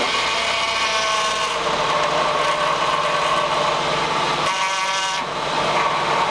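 A 2004 Honda Pilot engine runs at a steady idle close by, with a loud continuous hum and a broad mechanical drone, plus a brief dip in the middle before it settles back to a constant tone.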